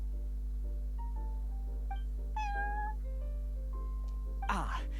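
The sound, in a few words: cat meowing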